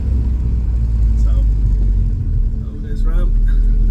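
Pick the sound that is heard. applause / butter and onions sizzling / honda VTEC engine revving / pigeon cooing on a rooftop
honda VTEC engine revving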